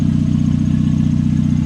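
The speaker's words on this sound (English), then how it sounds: "Now it's idling a lot better." A car engine idles smoothly and evenly, close by, with a steady low throb and no voices over it.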